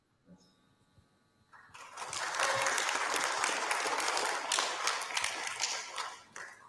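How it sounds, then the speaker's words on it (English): An audience at a programming-languages talk breaks into applause after a brief quiet lead-in, a dense roomful of clapping that swells quickly and stays steady before thinning slightly near the end. "I hope you could hear the round of applause."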